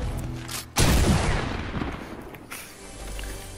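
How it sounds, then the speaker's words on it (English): A loud, sharp heavy sniper rifle shot in a video game, one big blast at the start followed by a long rolling decay, with a softer boom near the end. "I upgraded my heavy sniper so I can use it."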